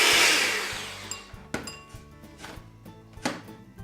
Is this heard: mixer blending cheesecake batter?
yes